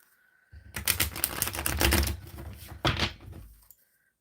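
Tarot cards are shuffled close by in a dense, rapid riffle of crisp papery clicks lasting a few seconds, then a second short burst, with quiet surroundings on either side.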